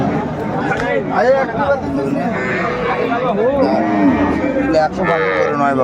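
Cows and calves moo repeatedly, loud and close, at a busy rural cattle market, the bellows overlapping under constant crowd chatter and bargaining voices.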